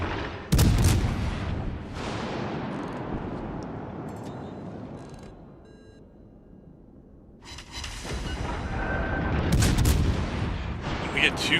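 Naval guns firing HE rounds in World of Warships, with loud booming salvos near the start and again toward the end, a quieter rumbling stretch between them, and background battle noise throughout.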